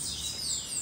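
A caged sibite, or bananaquit, gives high thin chirping calls, a brief close burst of bird vocalization with no talk.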